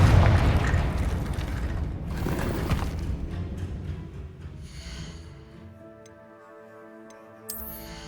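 A Confringo blasting spell goes off in Hogwarts Legacy, a loud broadband burst with a rumbling tail that fades over several seconds into quieter game ambience, with a faint chime near the end.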